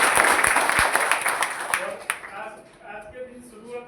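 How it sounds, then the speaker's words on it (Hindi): An audience at a Modicare speech event in Mehsana gives a loud round of applause for three honoured guests. The clapping is strong at first, then thins and fades away, and a voice carries on at the end. "ये तीनों शख्सियत के लिए एक जोरदार ताली"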